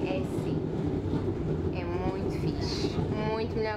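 A Portuguese train rumbles steadily with a low, continuous roar and faint rattling, while people talk over the noise inside the carriage.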